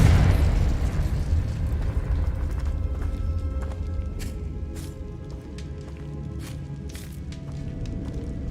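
In Hogwarts Legacy, a Confringo spell sets off a fiery explosion: a loud, booming blast that rolls and fades over several seconds, with a few sharp crackles and pops scattered through the tail.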